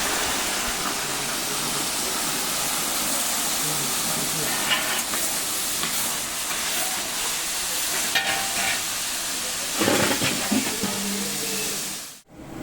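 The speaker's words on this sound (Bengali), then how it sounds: "এবার গাজর ও বিনস দিয়ে দেবো কড়াইতে।" Carrots and beans sizzle in a hot wok for fried rice after cashews were fried, giving a steady frying hiss with occasional stirring scrapes before it cuts off abruptly.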